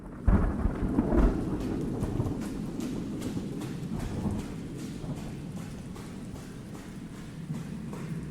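Steady heavy rain pours throughout, with a loud rolling rumble of thunder near the start that fades into a continuous downpour, no voices present.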